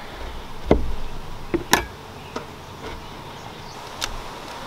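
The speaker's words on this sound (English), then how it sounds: "Popping the inner cover off." Scattered sharp cracks and clicks as a beehive inner cover is pried loose, over a low buzzing of bees.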